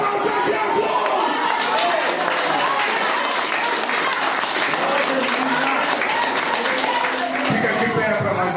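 A church congregation applauds in praise, a dense continuous roar of clapping filling the room with voices and shouts mixed in throughout.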